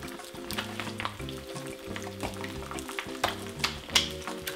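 Eggs fry in a pan with a steady crackling sizzle, close and fairly quiet, while tonal background music plays underneath.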